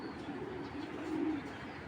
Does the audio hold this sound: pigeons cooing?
yes